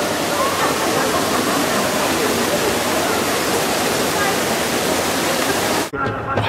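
The Trevi Fountain in Rome pours in a dense, loud, steady rush of splashing water that cuts off sharply near the end.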